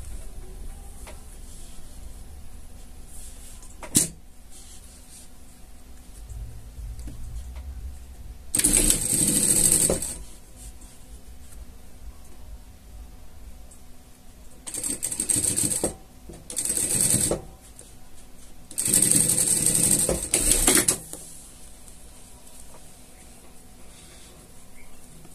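A sewing machine stitches the ears of a fleece pet slipper in several short runs of fast mechanical whirring, separated by quiet pauses in a small workroom.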